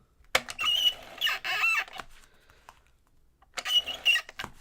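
A pet bird screeches in loud, harsh bursts from another part of the house, two clusters of shrill calls separated by a brief lull.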